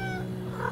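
Brief cat meow from the video game Silver Palace, a short tonal mewing call with a rising, wavering pitch, heard clearly over a low background drone.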